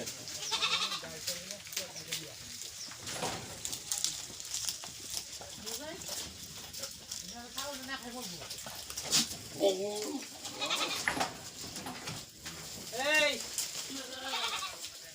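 Goats bleat repeatedly, several wavering calls close by, including a pregnant one and a red goat, mixed with people talking and background farmyard noise in Bangladesh.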